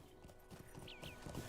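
Horse hooves clip-clop at a steady trot in Lord of the Rings Online, a fantasy video game, quiet and close, with a couple of brief high whistling tones over the top.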